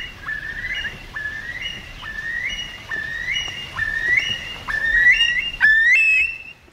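A series of repeated rising whistles, about eight in a row, each upward-sweeping and growing louder toward the end, a human imitation of a curlew's shrill call.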